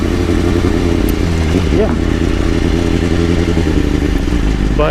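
A 2010 BMW S1000RR motorcycle engine drones loud and close during a ride in downtown Houston, with a steady low rumble, wind buffeting and a voice talking over it.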